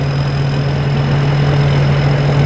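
A Phet Charoen combine harvester's engine runs steadily, a loud, close, continuous low drone with a constant hum and no other sounds.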